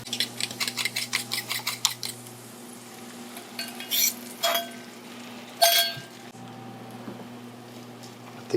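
Eggs are tossed and stirred in a frying pan on a stovetop while cooking breakfast burritos, a quick run of rhythmic metal clinks and scrapes, then a soft sizzle with scattered clangs of the utensil against the pan, close and without speech.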